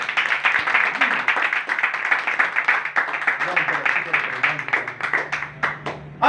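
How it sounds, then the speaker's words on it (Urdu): Loud, dense clapping from a congregation at a church Bible study, many hands striking together in a rapid, continuous burst that stays strong before thinning near the end. "یسوع مسیح کے لیے ایک بار زوردار تالیاں"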